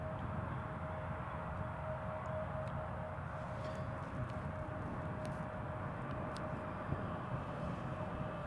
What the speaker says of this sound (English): Eastern Airways is now taxiing.